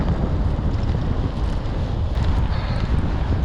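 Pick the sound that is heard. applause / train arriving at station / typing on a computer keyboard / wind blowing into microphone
wind blowing into microphone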